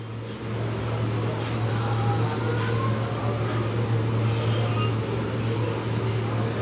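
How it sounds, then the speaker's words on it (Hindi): Mixer grinder coarsely grinding cooked arbi (colocasia) leaves for bhujiya, a loud, steady whirring motor drone that runs without a break from start to finish. "तो अभी इसको अच्छे से पीस लेती हूँ"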